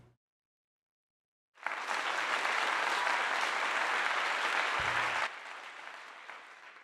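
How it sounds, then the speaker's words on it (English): After a brief silence, an audience breaks into loud, dense applause. The clapping holds steady for several seconds, then drops to a quieter level as it fades. "Round of applause for that."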